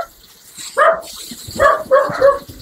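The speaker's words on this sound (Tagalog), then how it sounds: "Maraming aso." Several dogs bark at a rural farm in the Philippines, giving a loud bark followed by a quick cluster of two or three more, fairly close, with faint outdoor background noise.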